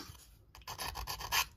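A triangular file scrapes a burr off a small part of a Tower Bridge model kit in a few quick, quiet rasping strokes heard close up.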